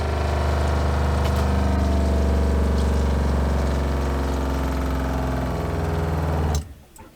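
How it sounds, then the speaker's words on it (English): An RV water pump runs with a steady, loud mechanical hum, drawing antifreeze through the plumbing to pressurize the system for winterizing, then cuts off abruptly near the end. "Faucet shut, we're going to go ahead and turn on our water pump."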